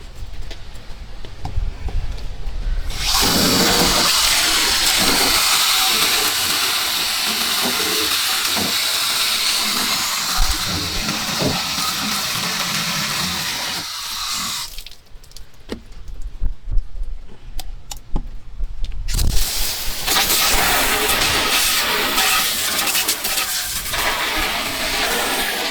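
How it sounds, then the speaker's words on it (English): Water hose blasting dirt and debris out of the power antenna area on a Mitsubishi Montero, a loud steady spraying hiss running for long stretches, with a brief drop in the middle before the jet resumes. "we're just gonna blast that area with the water hose, just get everything all cleaned out"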